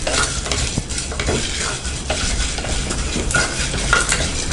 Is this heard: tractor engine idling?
no